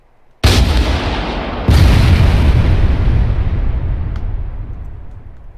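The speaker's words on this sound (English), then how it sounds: "Clear backblast. Backblast clear. Rocket." A rocket launcher fires in ARMA 3 during squad training, with a sudden heavy boom, a second blast close behind, and a long rumbling roar that slowly fades.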